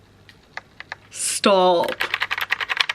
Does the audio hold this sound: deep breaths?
no